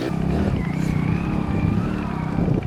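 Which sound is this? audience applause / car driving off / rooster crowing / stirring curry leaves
car driving off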